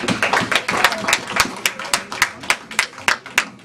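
A church congregation claps together in praise, a steady run of sharp hand claps with a fairly even rhythm, moderately close, with some voices mixed in underneath.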